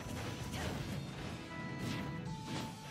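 A smash attack lands in Super Smash Bros. during a tournament match between Cloud and Bayonetta. A dense crashing hit is followed by whooshing swings over busy game noise, and no one talks.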